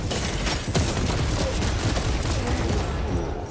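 A frag grenade goes off amid a loud, continuous barrage of gunfire and blasts in Space Marine 2 combat, with dense crackling impacts throughout.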